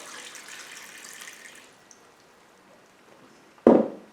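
Water is poured out of a pot, about one and a half litres of pickling liquid for cucumber pickles, a soft splashing stream that fades out, then a sharp loud splash near the end.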